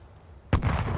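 A grenade goes off in Counter-Strike 2: after a near-silent lead-in, a sudden loud blast erupts and trails into a dense, rumbling roar that holds to the end.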